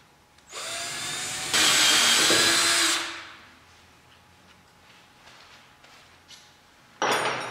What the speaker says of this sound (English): This one I'm going to have to drill out twice.